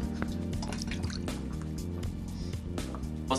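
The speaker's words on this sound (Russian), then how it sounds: "Сразу же в начале дня я выпиваю стакан воды." A glass of water poured and drunk first thing in the morning: steady liquid dripping and filling sounds run close to the mic for a few seconds, with no talk.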